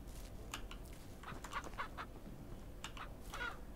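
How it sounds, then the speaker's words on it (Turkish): Chickens clucking in the farming video game Ranch Simulator, a run of short, scattered clucks and squawks over a steady low background hum, with no talking. "Ne gıdaklıyorsunuz lan?"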